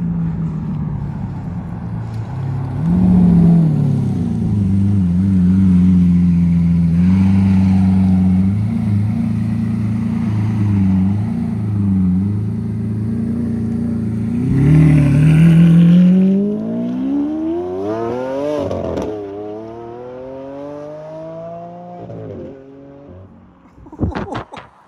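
A Lamborghini Aventador supercar leaves a Cape Town car meet, its engine idling with a deep steady drone, then revving and climbing through rising gears as it pulls away and fades, ending with a sharp burst.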